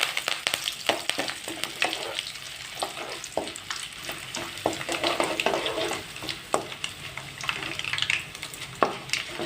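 Chilli and tomato pickle base frying in hot oil with curry leaves added, a steady close sizzle with crackling pops and occasional stirring scrapes throughout, no voices.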